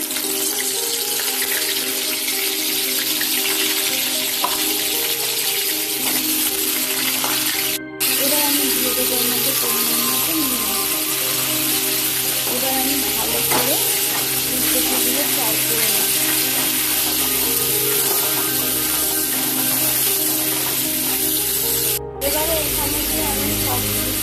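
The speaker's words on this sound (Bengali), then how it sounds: "এদিকে আমার তেলটা গরম হয়ে গেছে আমি এবারে এর মধ্যে দিয়ে দেব ফুলকপি তার সাথে দিয়ে দেবো সব ফোড়নগুলো" Cauliflower florets drop into hot oil with whole spices, producing a loud, steady frying hiss with bubbling crackle that holds for the whole stretch, with faint tonal sounds underneath.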